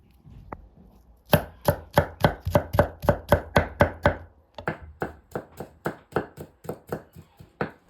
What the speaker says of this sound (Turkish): Sarımsaklarımızı da ince ince kıyıyoruz.